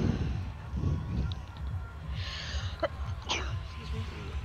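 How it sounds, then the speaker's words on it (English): A person sneezes close into a headset microphone during a Fortnite Battle Royale session, a sharp breathy burst followed by a second quick snort, loud and near over a steady low rumble of game sound. "How dare you sneeze into the microphone?"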